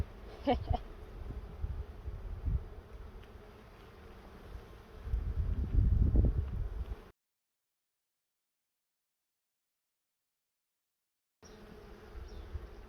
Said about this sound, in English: I'm glad that this is not an aggressive strain of bee.